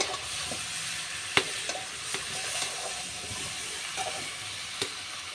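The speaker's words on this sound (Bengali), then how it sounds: "এবার দিয়ে দেবো এই মাছের ডিমগুলো। আবার আমি একটু ভালো করে কষিয়ে নেব।" Fish roe stir-fries in a pan, a soft continuous sizzle broken by sharp clinks and scrapes of a spatula against the pan at irregular intervals.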